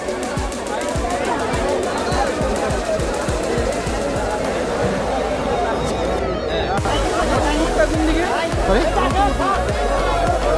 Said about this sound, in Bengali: মানুষের ভিড়ও যেমন আজকে বাড়ছে বেচাকেনার ভিড়ও বাড়ছে